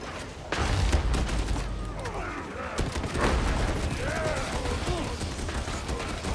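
Mule gun fire from an Ogryn in the video game Warhammer 40,000: Darktide, heavy booming shots and clanking mechanisms blended into a dense, continuous battle din with constant loud rumble and scattered effects throughout.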